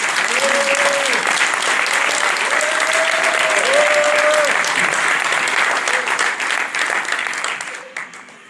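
An audience at a political meeting for a municipal candidate gives sustained, dense applause that stays full for several seconds and then tapers off, with a voice speaking faintly underneath.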